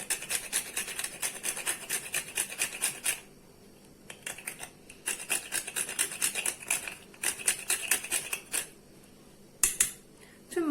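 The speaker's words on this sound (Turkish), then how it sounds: "Biraz da muskat rendeliyorum." Nutmeg being grated by hand in a kitchen, quick rhythmic rasping strokes in bursts with short pauses between, close and crisp.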